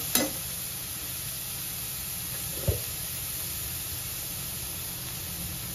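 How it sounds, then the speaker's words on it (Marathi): Onion, tomato and spice masala for chole roasts in a pan with a steady, even sizzling hiss, broken by two brief clinks of a utensil. "झाकण ठेवून मस्त भाजून द्यायचा मसाला, अधूनमधून मिक्स करायचा"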